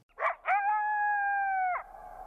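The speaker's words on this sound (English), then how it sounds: "The yip howl declares to other coyotes that this territory is occupied." Coyote yip howl in Yellowstone National Park: two short yelping bursts followed by a long, steady, slightly falling howl, loud and close with no talking.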